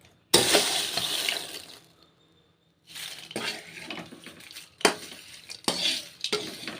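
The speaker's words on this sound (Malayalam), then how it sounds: "അങ്ങനെ എല്ലാ പപ്പടം ഇട്ട് ഇതേപോലെ ഒന്ന് ചെറുതായിട്ട് പതുക്കെ കുഴയ്ക്കണം പപ്പടം പൊടിഞ്ഞു പോവാതെ പതുക്കെ കുഴച്ചെടുക്കാം" Papadam pieces being gently worked by hand into a cooled ground paste, producing soft wet squishing and stirring sounds in irregular bursts with short pauses, close by and without talk.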